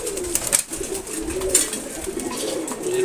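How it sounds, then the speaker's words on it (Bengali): Male pigeons cooing while being fed, with soft, low, repeated coos close by over light rustling and pecking noise. "সবগুলো এখানে নর কবুতর।"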